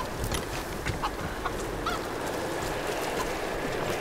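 Chickens in Tomb Raider let out repeated honking, clucking calls over a noisy game background, several short squawks close by, with no one talking.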